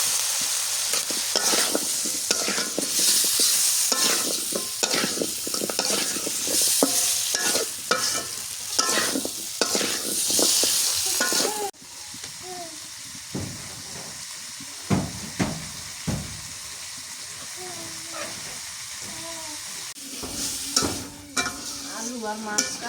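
Potatoes and tengra fish sautéing in a pan, with a steady loud sizzle and repeated scraping stir strokes. The frying noise drops noticeably halfway through and continues quieter, with occasional clinks of the spatula.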